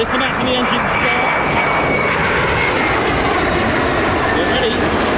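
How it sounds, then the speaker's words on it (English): A military jet engine winds up on the ground at an air force fighter base, a loud continuous roar with a rising whine that fills the air throughout, with no pauses. "Now listen out for the engine to start."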